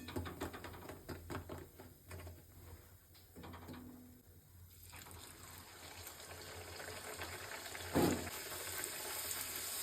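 Pea-stuffed luchi, a puffed Bengali fried bread, sizzling in hot oil in a kadai, a steady broadband hiss throughout with a brief louder crackle near the end and no talk.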